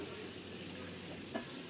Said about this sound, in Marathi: मस्त असे खमंग खरपूस वडे तळून घ्यायचे